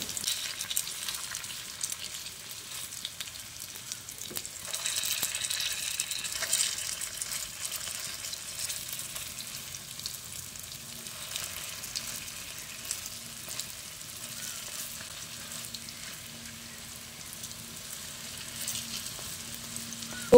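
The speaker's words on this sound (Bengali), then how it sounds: "এই সয়াবিনের মুইঠাগুলোকে উল্টে পাল্টে ভেজে নিতে হবে" Soybean dumplings (muitha) fry over low to medium flame in a pan, a steady soft sizzle and crackle of oil running throughout, with occasional light clinks as the pieces are turned.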